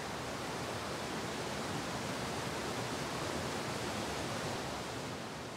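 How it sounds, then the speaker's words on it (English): Courthouse Falls, a waterfall below a black rock outcrop where Courthouse Creek drops through a fluted chute under hemlocks, gives a steady, dense, broadband rush with no break across the whole span. "below a raggedy black rock called the Devil's Courthouse, is spectacular Courthouse Falls"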